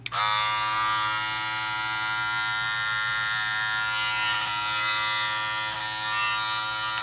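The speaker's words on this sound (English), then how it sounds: "that's what I mean about making the clipper louder" An electric hair clipper buzzes steadily and loudly close by, a constant high-pitched motor whine with no pauses.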